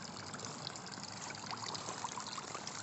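Water trickles steadily from a small garden pond waterfall outdoors, a soft, continuous splashing wash with no voices.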